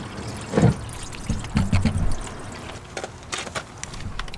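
Fluid drains from a BMW E39 530i into a drain pan during a brake job, giving a close, uneven pouring and trickling with a few stronger gushes and no talking.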